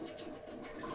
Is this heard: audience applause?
no